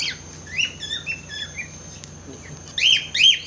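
Quail and their chicks squawk and chirp at scattered feed, with a run of short, high calls through the first half and two louder bursts near the end, close by over a faint low hum.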